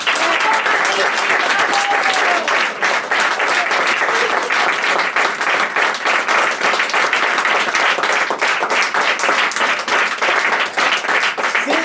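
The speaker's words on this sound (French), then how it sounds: "Je vous demande d'applaudir Marie." A show audience in Aix-en-Provence applauds Marie with loud, sustained clapping from many hands. The dense, even ovation lasts the whole stretch with no break.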